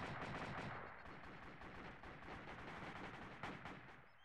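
Rapid bursts of weapon fire from a grenade launcher and guns in the military video game ARMA 2, dense overlapping booms and cracks at a steady moderate level with one sharper blast near the end.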